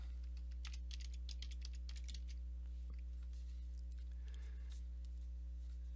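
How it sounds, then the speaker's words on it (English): Keys on a computer keyboard clack in short irregular bursts while text goes into a presentation slide, quiet clicks over a steady electrical hum and with no talking. "we're going to type in the word checklist."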